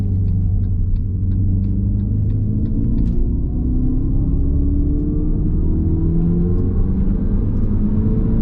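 Steady low road rumble and tire noise from inside a moving electric Dodge Charger Daytona in sport mode, with a smooth, quiet motor whine rising gradually as it speeds up.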